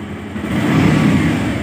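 A Bajaj Pulsar motorcycle fires up on its electric self-starter and settles into a steady, loud, close engine run with a low throbbing tone.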